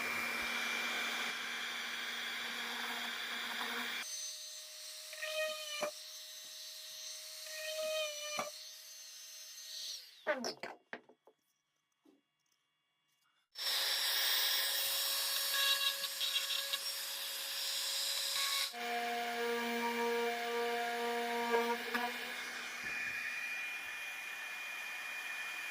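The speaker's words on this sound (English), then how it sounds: "Finally, drill the mounting holes for BNC connectors." A small power drill whirs in several sustained bursts while drilling mounting holes in a printed circuit board, its pitch shifting as it bites into the board, with a short quiet pause midway.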